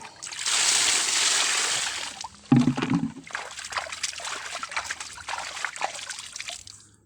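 A fisherman's bucket muddied from the path is rinsed with water, a steady splashing pour for two seconds, then a clunk and irregular sloshing and trickling, close by.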